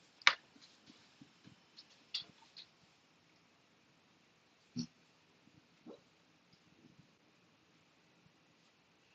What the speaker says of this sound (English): if you hear my dog, she's sleeping and dreaming, and she's barking in the sleep.